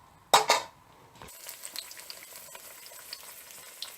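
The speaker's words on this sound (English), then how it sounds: "Similarly, fry the rest of the bajas." Bottle gourd fritters frying in hot oil, a few loud clattering knocks from a utensil at the start, then a quiet steady sizzle with small crackles, no voices.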